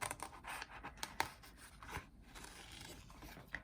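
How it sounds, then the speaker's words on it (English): Spring-loaded scissors cut out dried Christmas craft pieces with a quick series of close, crisp snips and scratchy paper scrapes, irregular in rhythm and fairly quiet. "This is where these scissors come in really handy, because you get a really close cut"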